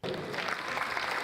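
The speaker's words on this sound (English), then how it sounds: "Please, I want to crave the indulgence of the audience to please clap very well" A brief, dense burst of audience clapping at a medical rehabilitation graduating class induction ceremony, steady and fairly full throughout its short span.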